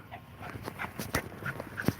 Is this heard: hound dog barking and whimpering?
yes